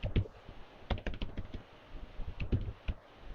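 Rapid keyboard typing at a computer as a network command is entered: uneven bursts of close, clacky keystrokes with short pauses between clusters, no voices.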